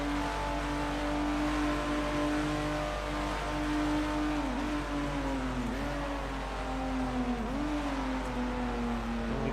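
A race car with a broken engine drones steadily through a racing video game at Daytona, its harmonic engine tone holding constant with a few brief dips and recoveries, continuous and close throughout.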